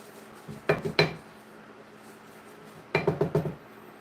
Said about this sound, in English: Taters and onions are going in.